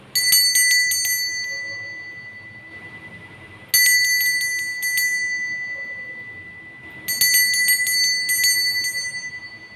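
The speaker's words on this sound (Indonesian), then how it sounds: "kita akan mulai dengan ditandai lonceng berbunyi" A small bell rung in three bright bursts of rapid strikes, each ringing out and slowly fading before the next.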